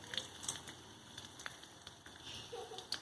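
Ginger and garlic frying in a pan, a faint, steady sizzle with scattered pops and crackles that continues evenly without a break.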